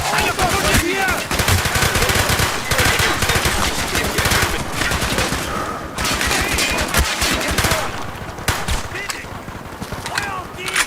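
Rapid gunfire and machine-gun bursts from the Call of Duty Black Ops PC game's Project Nova mission, loud and continuous over the whole stretch, mixed with shouted voices and explosive battle noise.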